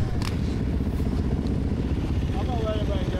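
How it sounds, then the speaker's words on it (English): Dirt bike engines at the Eugene MX motocross track during open practice, a dense, steady low engine drone with idling and some clatter, while someone talks over the top. "Let's ride our dirt bikes"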